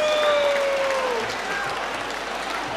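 Steady applause from a concert audience in an exhibition hall, a broad wash of clapping that holds at an even level, with a faint whistle-like tone sliding down early on.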